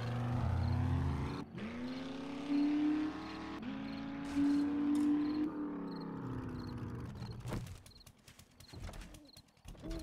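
A truck in the video game 7 Days to Die drives along with a steady engine drone that shifts pitch as it revs, cutting out and restarting, then giving way to clattering, knocking noises near the end.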